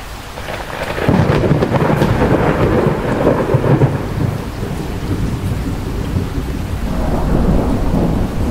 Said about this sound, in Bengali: এই ঝড় বৃষ্টির সন্ধ্যায় কোনো রিক্সা বা গরুর গাড়ি পাবো বলে তো মনে হচ্ছে না।